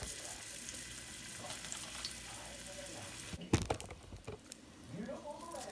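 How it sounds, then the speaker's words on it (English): Ingredients for a potato and chicken tomato soup crackle and sizzle faintly in hot oil, a steady hiss broken by a few sharp clatters of utensils partway through. "So I'm gonna go toss this into the hot oil."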